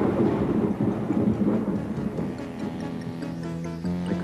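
Low, rolling thunder from a volcanic eruption's lightning rumbles continuously at a moderate level, deep and distant, with no speech.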